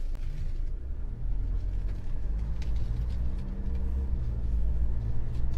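A SsangYong Korando Sports drives in four-wheel-drive low, giving a steady, low engine and road rumble that continues throughout with no voices.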